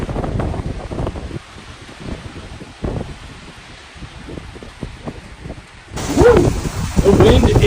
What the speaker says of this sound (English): The wind is ripping now here.